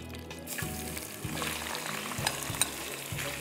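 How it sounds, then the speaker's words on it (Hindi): Marinated chicken pieces fry and sizzle in a pan for a deluxe chicken curry, with a steady close crackle and repeated stirring scrapes punctuating it every half second or so, no talking. "इसमें मैं डाल रही हूँ मैरिनेट की हुई चिकन"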